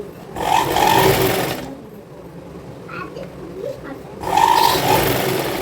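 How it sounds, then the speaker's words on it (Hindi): A sewing machine runs in two bursts, stitching a folded fabric edge on a child's cord set garment, with a quieter pause between the runs. "यहाँ पे इसको एक बार और फोल्ड करके और दूर से सिलाई लगा देंगे।"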